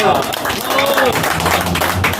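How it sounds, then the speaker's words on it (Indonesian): Steady clapping and applause from a crowd at a community meeting facilitated by police, continuous throughout, with voices mixed in. "Tepuk tangan dulu buat kita semua."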